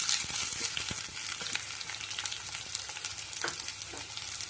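Onions, curry leaves and garlic sizzle and crackle in hot oil for a garlic curry, a steady frying hiss with sharp pops and occasional stirring scrapes.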